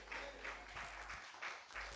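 A church congregation claps faintly in a steady, regular rhythm. The claps are soft and sound distant.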